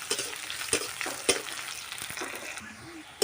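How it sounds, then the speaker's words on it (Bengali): Onions frying until lightly reddened in a pan while being stirred, a steady close sizzle broken by several sharp scraping stirs, with no talking. "তো দেখো পেঁয়াজটাকে হালকা লাল লাল করে ভাজা হয়ে গেছে।"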